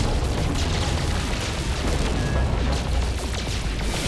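Photon cannon fire and explosions in a No Man's Sky space battle form a dense, continuous roar of booms and bursts, loud and steady throughout with no talking.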